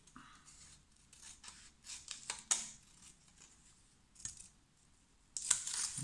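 Scissors snip small fabric squares on the bias, close and quiet, with a run of soft cuts and a few sharper snaps, ending in a brighter rustling burst.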